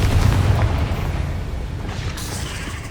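A fiery Confringo spell explodes in the Hogwarts Legacy video game, a loud booming blast that rumbles and slowly fades over a few seconds.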